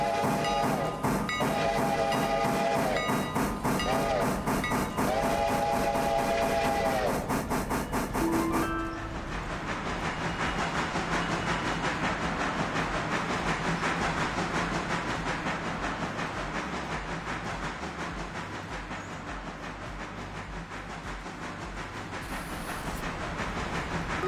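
Railway shunting: wheel squeal and clanking at the start, then a steady loud rumble and hiss of rolling wagons that continues throughout.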